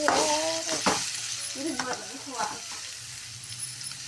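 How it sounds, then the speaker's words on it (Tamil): Soybeans stir-fried in a pan, giving a steady sizzle with scraping and clinking as they are tossed, and a voice speaking briefly over the cooking. "இதை போட்டு பரட்டி எடுத்துக்கலாம் சோயாபீன்ஸை."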